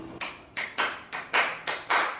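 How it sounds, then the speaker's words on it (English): Hands clap out a fiddle tune's rhythm: seven crisp, close claps in an uneven pattern, some spaced wide and others paired quickly, with no talking. "clap the rhythm of the thing you're practicing"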